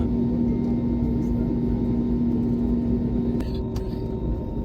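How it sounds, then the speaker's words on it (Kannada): A passenger airplane at an airport nearby, heard as a loud, steady engine roar with a constant droning hum that runs unbroken through the whole stretch, plus a couple of brief clicks near the end. "ಇದ ನಮ್ಮ ಮುಂದಿನ ವಿಮಾನ ಟೇಕ್ ಆಫ್ ಆಗ್ತೈತಿ"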